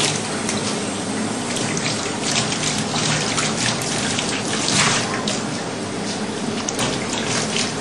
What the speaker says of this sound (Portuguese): Mas isso é água corrente, muita água, vai passando.